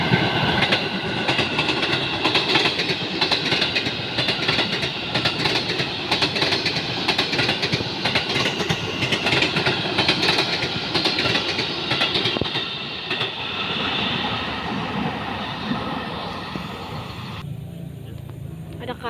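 A KRL commuter electric train bound for Cikarang rolls past at night in Tambun, West Java, a loud, close rumble and clatter of wheels that fades away near the end, with talk faintly over it.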